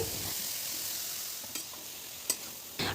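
Chunks of taro sizzle steadily in a pan of spices fried with onion and green chili, a soft continuous hiss broken by a few sharp clinks of a spoon against the pan.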